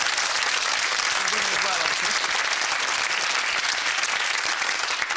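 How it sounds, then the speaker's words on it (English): Studio audience at a comedy game show gives a loud, continuous round of applause lasting several seconds, with a voice briefly speaking over the clapping. "I mean, lads, round of applause there."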